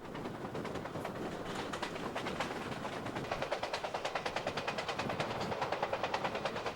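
A train travels north along Southern California rails, giving a steady rumbling roar that grows into a regular rhythmic clatter of wheels over track joints in the second half, with no voices.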